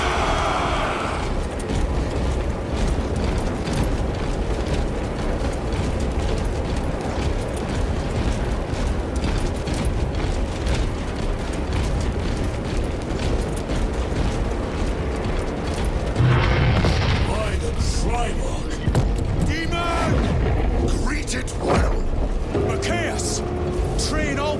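Continuous battlefield din of artillery fire in Warhammer 40K: Space Marine 2, a dense rumbling barrage of blasts and mechanical clatter filling the whole stretch, with a heavier burst about two-thirds through and voices shouting beneath.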